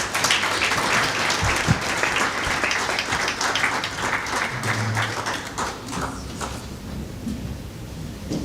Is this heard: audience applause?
yes